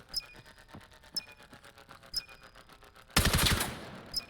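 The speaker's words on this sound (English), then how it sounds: "Wow, good headshot back to back, and Ivy are gonna get their fifth." Gunfire in the VR shooter Vail VR during a competitive 5v5 league match: a few spaced single shots with sharp electronic pings, then a dense, loud burst of rapid fire near the end.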